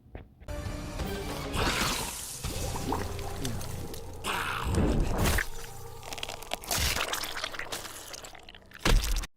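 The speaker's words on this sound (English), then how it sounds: "you just sprayed acid at him" Acid spray fatality from Mortal Kombat XL, a dense wet gushing and splattering burst with squelchy crunches, loud and continuous, with surging swells and a sharp hit near the end.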